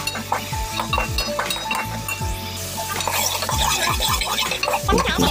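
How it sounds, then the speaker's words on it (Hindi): Turmeric, coriander, garam masala and red chili powder are roasted with vegetables in a pan, the spatula scraping and clinking repeatedly against the metal over a low, continuous frying sound. "ये सारी मसाले डालकर हमें अच्छे से भून लेना है सब्जियों के साथ में"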